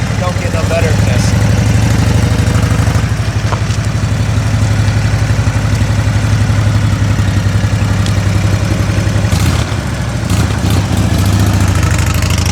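A 1997 Harley-Davidson Heritage Springer FLSTS runs with a steady, loud idle throughout, its low rumble continuous and close, with a brief shift in tone near the end and some voice mixed in.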